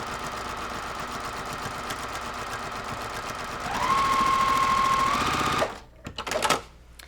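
A sewing machine runs steadily while stitching through bulky, heavily seamed quilt-block fabric, a loud continuous whir that rises near the end, then stops abruptly and leaves a few short clicks and handling sounds.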